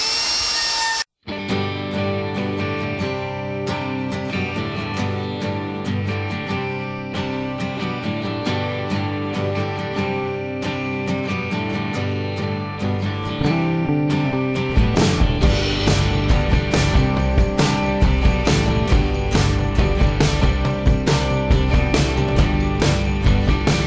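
A router cutting a shape through MDF and resin, a loud, continuous high whine close up that holds steady and then turns rougher and more grinding partway through, with no talking.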